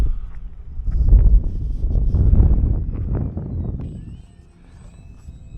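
E-Flite UMX Air Tractor RC plane at full throttle: a small electric motor's buzzing drone swells and fades as the plane passes, mixed with wind rumble on the microphone, with no talk.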